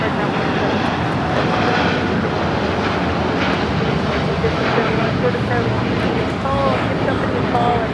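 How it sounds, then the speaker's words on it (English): A Boeing 787-10 Dreamliner on United Airlines takes off from Los Angeles International Airport, a loud, steady jet engine roar filling the whole stretch without pause, broadband and continuous. "United Airlines Flight 39 taking off to Tokyo Haneda on the 787-10 Dreamliner"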